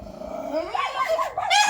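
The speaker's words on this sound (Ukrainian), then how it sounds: "дивлюся, що собаки гавкають так сильно" Dogs bark and growl close by in a continuous, agitated burst, with yelping, rising and falling calls, as a stork arrives.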